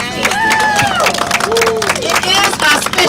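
Clapping and cheering from an audience at an outdoor political rally, steady and loud throughout, with crowd voices and chatter mixed in.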